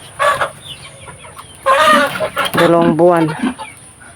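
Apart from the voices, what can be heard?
chickens clucking in a coop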